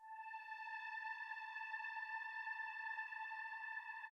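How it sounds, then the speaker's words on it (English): Distorted string patch from Arturia's Analog Lab, a single bright, buzzy sustained tone with stacked overtones, holding steady for about four seconds before cutting off abruptly, quiet and alone. "I added this distorted string sound from Arturia's Analog Lab."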